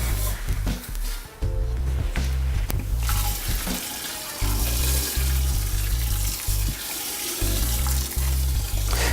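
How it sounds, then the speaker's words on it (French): Crushed malt grain pours into mash water for homebrewed beer, a continuous rushing, splashy flow with some low clunks and knocks of handling, close and fairly loud throughout. "on va verser notre grain qui est déjà concassé"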